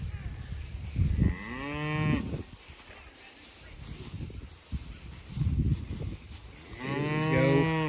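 Cattle mooing in a grass pasture, two long, loud, close lowing calls separated by quieter stretches of outdoor noise, with fainter moos from other animals between them.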